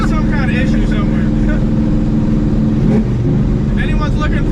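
An aluminum 5.3 engine runs rough at a high idle, a loud steady drone that breaks up unevenly, with people talking over it close by.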